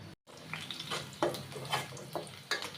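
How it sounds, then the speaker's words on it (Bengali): Chopped onion hits hot oil in a pan with a steady hissing sizzle, punctuated by several soft stirring scrapes at an even, unhurried pace. "তো তেল গরম হইলে আমি পেঁয়াজটা দিয়ে দিব।"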